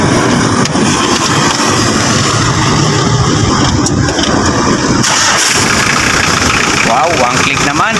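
A Mitsubishi L300 FB van engine cranks and catches, then settles into a loud, steady idle up close, with someone talking over it.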